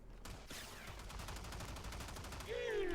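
Shotgun fire in Warframe, including the Strun Wraith, rapid repeated blasts in a steady crackling string, fairly faint, with a brief rising effect at the end.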